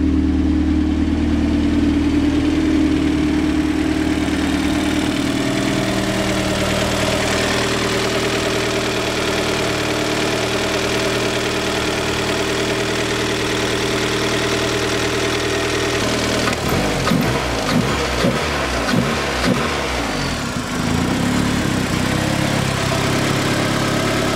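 A Mazda Miata engine runs steadily right after a fuel system install, a loud, continuous idle with a low rumble, then a burst of rougher revving and clatter near the end, with no talk over it.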